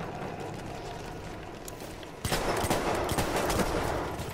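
Shotgun gunfire in Battlefield 1, distant and faint at first, then a burst of rapid, dense shots and clatter that continues loudly to the end.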